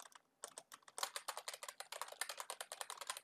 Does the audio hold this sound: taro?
no